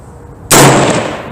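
A single loud, sharp gunshot from a Live Free Armory 6.5 Creedmoor AR-10 rifle bursts out abruptly about a third of the way in, then trails off in a long, fading reverberant tail.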